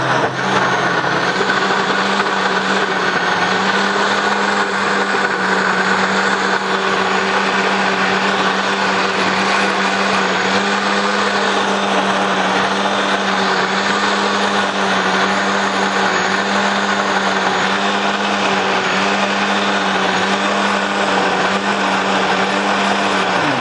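A blender whizzes Thai pumpkin soup in one loud, steady run of about 24 seconds, its motor holding a constant whirring pitch that wavers slightly, with no talking.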